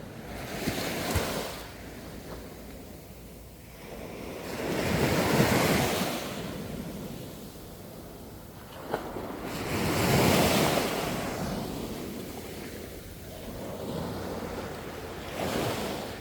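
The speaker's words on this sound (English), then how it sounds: "the tide is high and the water is almost coming up to the house here" Ocean waves at high tide surge and wash ashore near a beach house in Phetchaburi, Thailand, in slow repeated swells, with steady wind noise buffeting the microphone between breakers.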